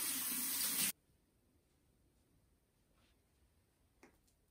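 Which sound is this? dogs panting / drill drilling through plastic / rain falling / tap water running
tap water running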